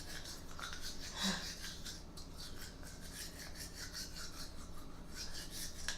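A child brushes teeth with a toothbrush and homemade coconut-orange toothpaste, giving a steady, close scrubbing rasp that runs continuously throughout at a low level.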